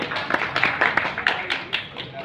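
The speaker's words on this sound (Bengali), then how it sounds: "তো আমরা জোরে একটা করতালি দিই রিমার্ক হার্লেন এবং টাইলসের জন্য" An audience clapping at an event, a short burst of scattered, uneven hand claps close by with a murmur of voices underneath.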